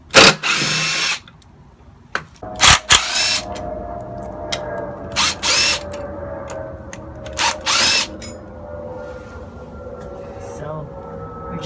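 A power drill removing hardware from an antique chair whirs in several short bursts of varying length, separated by pauses, with a low background hum between runs.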